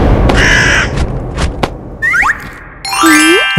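A crow caws loudly a few times, close by, along with cartoon-style thunks and boing effects and a short whistle-like slide.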